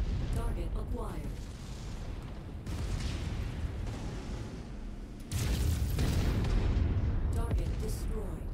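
Mech weapons firing and explosions in the video game MechWarrior 5 produce heavy booms and sustained rumbling blasts, with a loud surge midway, while a voice talks over the battle.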